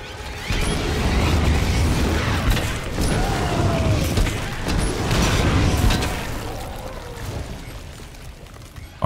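A fire extinguisher explodes in the video game Dead Space Remake: a loud, sustained rumbling blast with crackling debris, fading gradually toward the end; no clear speech.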